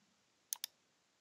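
Two quick, sharp computer mouse clicks in close succession, close and crisp against a quiet background.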